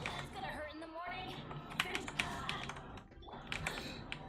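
Computer keyboard and mouse buttons clicked in quick bursts during a casual online game, close and fairly loud, with game music, effects and voices running underneath.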